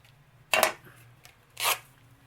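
Scissors cutting fabric during a holiday craft project: two short crisp bursts of cutting or rustling about a second apart, close by over a faint steady hum.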